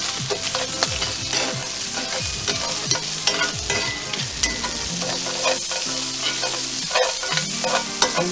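Shallots sauté in a pan for a green bean and bacon dish, with a loud continuous sizzle close by and frequent scraping and stirring strokes.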